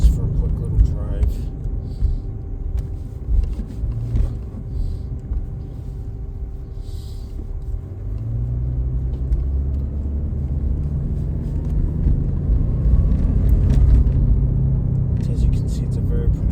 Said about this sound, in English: it's a very pronounced noise from the drive shaft